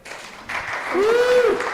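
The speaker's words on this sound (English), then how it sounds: "Now can we clap for Jamie?" An audience at a short- and medium-term rentals event claps for Jamie: a brief patter of applause that swells after a moment, with a voice rising over it near the end.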